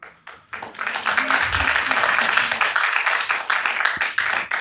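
Applause breaks out in a city council chamber, a dense crowd clapping loudly and steadily for several seconds right after a sharp start, with murmuring underneath.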